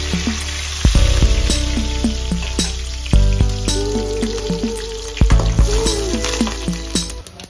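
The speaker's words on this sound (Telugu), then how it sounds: "నూనె వేగిన తర్వాత అందులోకి మనము పోపు గింజలన్నీ వేసుకుందామండి." Mustard and other tempering seeds frying in hot oil for green gram dal, a steady close sizzle with sharp crackles and several louder pops and stirring knocks, with no talk.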